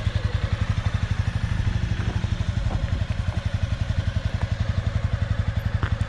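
Honda CBR300 motorcycle engine running close by, a fast steady clattering putter loud and alone without voices.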